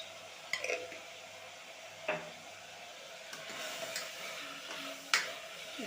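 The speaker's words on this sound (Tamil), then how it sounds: "இப்போ இந்த காய்கறிலாம் நல்லா வதங்கட்டும்." Vegetables with a little turmeric powder sauté in a pan, heard as a soft, steady sizzle broken by a few scattered clinks and scrapes of a utensil against the metal.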